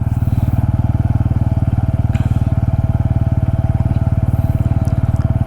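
A Bajaj Pulsar N160 4V motorcycle engine thrums steadily in second gear at low speed, a close, loud, even single-cylinder beat with rapid regular pulses and no change in revs throughout.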